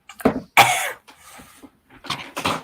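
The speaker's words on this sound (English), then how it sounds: "Coughing into the mic" Someone coughs several times close up, harsh bursts with short pauses, the last two coming in quick succession.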